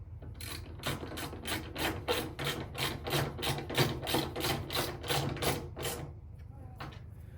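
A screw being driven while a new split plastic tub is fitted into a Bush washing machine, heard as a fast, even run of close mechanical ratcheting clicks for about six seconds before stopping.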